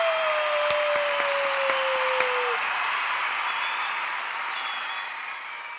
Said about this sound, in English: can you give her one more round of applause?